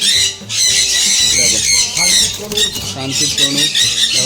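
Parrots, including sun, pineapple and other conures along with lovebirds, squawk loudly and continuously in a crowded aviary, harsh overlapping screeches filling the whole stretch with barely a pause.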